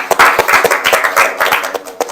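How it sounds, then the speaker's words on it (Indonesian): A classroom of students claps together, a burst of irregular handclaps close by and fairly loud, thinning out toward the end. "Tepuk tangan."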